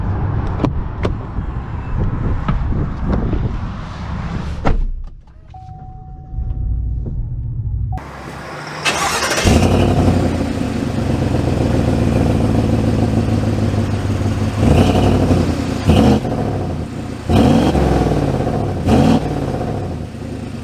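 A 2022 Chevy Silverado 1500 Black Widow pickup rumbles loudly, goes briefly quiet, then its engine fires up and drives off with a deep, steady roar and a few swelling revs.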